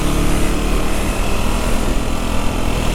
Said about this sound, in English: slowly off the throttle, giving it some gas, and now we're good to go